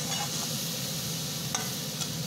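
Vegetables and spices sautéing in a pan for a mixed greens-and-vegetable dish, with a steady soft sizzle and occasional stirring scrapes throughout.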